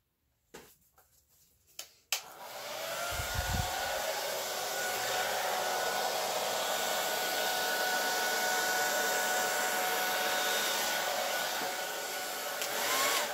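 A hair dryer blows across an acrylic paint pour, starting after a few soft handling taps and then holding a steady, loud whoosh that continues to the end.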